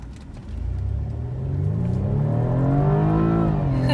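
A 2016 BMW 228i Coupe accelerates hard at night, its engine note climbing steadily in pitch and loudness over a few seconds, heard from inside or close to the car with no talk.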